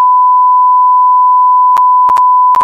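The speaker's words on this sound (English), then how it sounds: "Just beep this whole thing. Beep it all out." A censor beep: one continuous steady tone sounds alone for almost three seconds, loud and flat, with brief clicks near the end.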